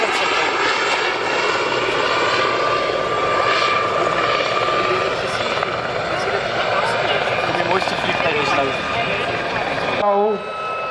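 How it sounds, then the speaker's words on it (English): An Aerospatiale Gazelle helicopter with a Fenestron shrouded tail rotor flies past at an air force museum airshow, a loud continuous rotor and turbine roar that holds steady for about ten seconds before cutting off abruptly. "it's got a completely different sound with that tail rotor, the Fenestron"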